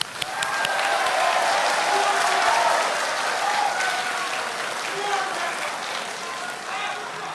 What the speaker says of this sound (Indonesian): Anda silakan tepuk tangan.